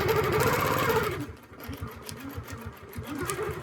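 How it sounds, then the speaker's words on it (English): A sewing machine stitches along a Westalee hearts template in a quilting setup, its rapid needle running loud at first, then easing into a steadier, softer rhythmic chatter. "We have all the alignments that we need right here in order to stitch this."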